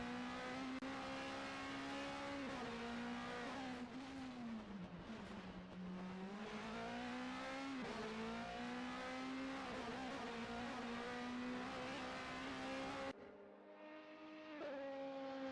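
A DTM race car in a sim racing game lapping the Portimão circuit, its engine a continuous high whine rising and falling through the gears, cutting off abruptly near the end.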